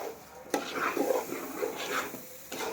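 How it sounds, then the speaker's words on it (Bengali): Oil frying and stirred in a pot while making pulao for a wedding meal, with soft close sizzling and a few scraping spoon strokes in uneven bursts, fairly quiet and without speech. "তেলটাকে আমি ভালো করে ভেজে নিতেছি"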